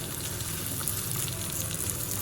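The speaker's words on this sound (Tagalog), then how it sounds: "Kaya ko siya ginigisa muna bago siya ilaga." Pork sizzling in a pan, sautéed before boiling for Filipino nilagang baboy; a steady, close crackling fry runs throughout with no pauses or talk.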